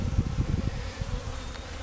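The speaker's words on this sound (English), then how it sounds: "there's all these bees hanging out over here, and I'm just going to come and I'm going to shake them inside the hive" Honey bees swarm around a hive being filled from a package, a close, dense buzzing drone with no voices.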